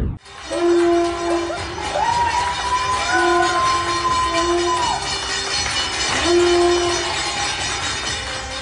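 Conch shells blow long, wavering horn-like tones again and again while neighbours in Ahmedabad clap in a steady, close clatter to welcome home a woman who has recovered from coronavirus.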